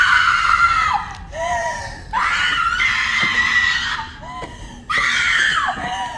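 Three long, shrill female screams from the horror-comedy film Bodies Bodies Bodies, loud and close, each separated by a short gap. Faint voices sit under them.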